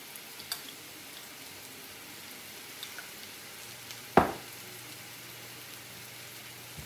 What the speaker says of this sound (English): So really basically we're just searing those pork chops